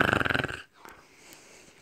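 A dog makes a close, rhythmic growling rasp for about half a second, then breaks off into near quiet.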